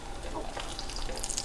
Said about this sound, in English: It starts sizzling and fizzling, which means it's hot enough.